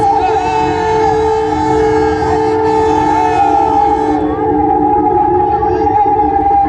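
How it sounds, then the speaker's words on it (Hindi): A loud, sustained train horn blares steadily for several seconds over a rumbling background, sounding close by at the Munger Ganga rail bridge. "और देखिए हॉर्न की आवाज, बुलंद आवाज, विकास की बुलंद आवाज"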